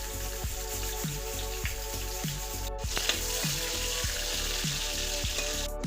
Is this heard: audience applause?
no